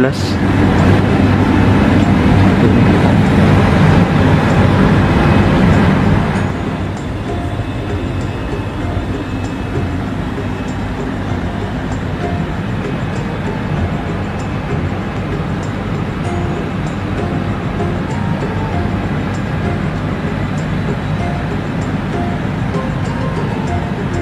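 Inside the Purwojaya executive train, a 2017 New Image car, the steady rumble and hum of the moving train fills the cabin, louder at first and then settling into a constant drone.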